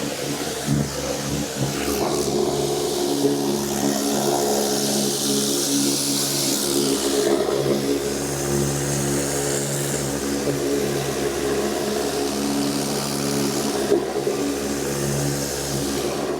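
Pressure washer with a turbo nozzle rinsing foam off a car, a loud continuous hiss and spray with a steady motor drone underneath, running unbroken throughout.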